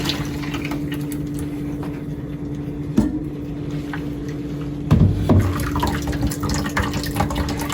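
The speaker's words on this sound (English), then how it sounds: "So I'm just going to strain this into a bowl that I have in the sink here." Natural tie-dye mixture is poured through a strainer into a bowl in a sink, making a steady trickling, splashing water sound with a low hum behind it and a couple of brief clunks.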